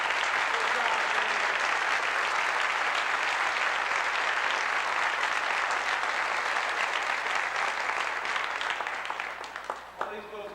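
An audience at a 1989 high school excellence ceremony gives faculty, advisors and coaches a long round of full, continuous applause. It thins out near the end as a voice comes in.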